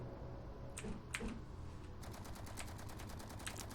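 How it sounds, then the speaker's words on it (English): Ship-mounted guns firing in the video game Space Engineers, a steady rapid rattle of automatic shots running under a constant ambient hum, loud and continuous throughout. "And there go our guns shooting the Sabroids as always."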